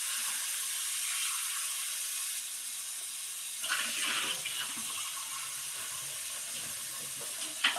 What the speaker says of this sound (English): when you are cleaning this out, make sure you use hot water